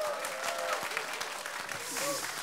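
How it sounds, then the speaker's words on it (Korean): Applause from a studio audience marking a first-anniversary special of a Korean political talk show, steady broadband clapping at moderate level with faint voices mixed in. "힘찬 박수 부탁드리겠습니다"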